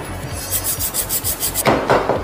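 Brake pads from a Scooter Agility 125 being sanded by hand, a steady back-and-forth rasping scrape in quick even strokes, close and fairly loud, building to heavier rubbing near the end, with no voices.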